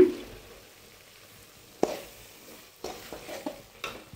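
Masala for bread masala sautéed in oil, with a faint low sizzle punctuated by a few sharp scraping and tapping stirs in the pan, quiet, with no voices.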